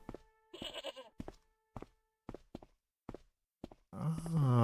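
A tethered goat in the Broken Sword video game gives a series of short clipped bleats followed by one long wavering bleat, close and clear with quiet gaps between calls.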